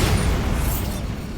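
Bombarda exploding spell in Hogwarts Legacy: a dense, booming low rumble with a burst at the start, sustained and loud, tapering slightly toward the end.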